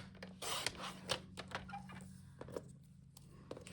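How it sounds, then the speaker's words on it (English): Cardstock being trimmed straight on a paper trimmer, a faint close rasping slide with a few soft scraping strokes over low background hum. "I'm just going to trim across here to make it straight."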